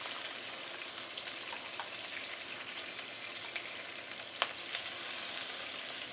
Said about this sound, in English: Pan frying on one side.